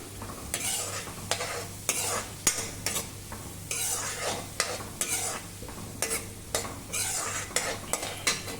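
Chopped garlic and ginger sautéing in a pan for kadai paneer, with a steady close sizzle broken by repeated scraping and clacking strokes of a spoon stirring against the metal.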